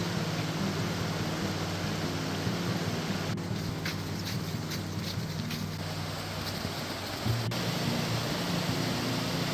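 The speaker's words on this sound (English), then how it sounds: "Here's the creek." A snowy creek near Juneau, Alaska flows steadily with a broad, continuous rushing hiss of water, fairly close and unbroken.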